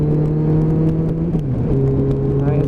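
An Eclipse motorcycle engine revving at around 4,000 RPM, a steady loud drone that dips in pitch briefly during a gear change before holding again, with heavy wind rush over it.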